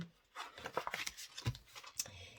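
Quiet scissor snips and rustling paper close by, a few short crisp cuts spaced irregularly, cutting paper strips for a handmade album cover.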